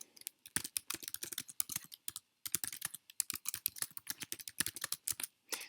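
Fast, steady typing on a computer keyboard, dense clusters of crisp key clicks with a brief pause midway, close and fairly quiet with no one speaking.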